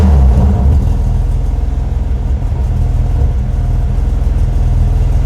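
A 700 bhp BMW G87 M2 idling and revving with its exhaust valves closed, a loud, steady low droning rumble close by that holds evenly without sharp peaks.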